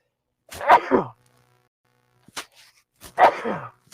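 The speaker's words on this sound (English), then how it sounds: "I had to sneeze." Two loud, close sneezes a few seconds apart on a live television broadcast, each a sharp burst with a short trailing sound, separated by near silence.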